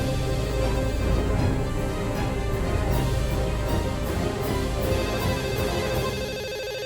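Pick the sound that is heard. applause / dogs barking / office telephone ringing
office telephone ringing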